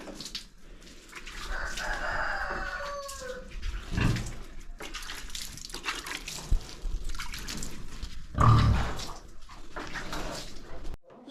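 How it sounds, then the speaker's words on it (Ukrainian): Farmyard animals: a rooster crows and hens cluck, with splashing water and scattered low grunts from pigs nearby. "Свині вже поїли, хтось сидить, хтось стоїть."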